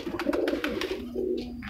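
A red-eyed teddy pigeon coos in short, close, rhythmic pulses, several rolling notes in quick succession followed by a lower sustained coo.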